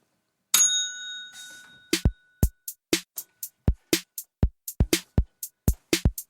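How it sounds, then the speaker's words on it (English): A bell rings once with a bright sustained tone, followed by a quick rhythmic run of about fifteen sharp percussive knocks, each short and crisp, with silence in between. "I'm going to ding the bell"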